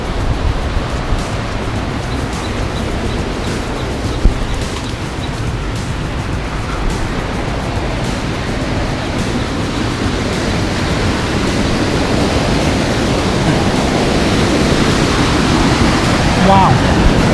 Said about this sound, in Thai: โอ้โหเสียงน้ำตกกระหึ่มเลยไม่รู้จะใหญ่ขนาดไหนหรือว่าเป็นแค่ฝาย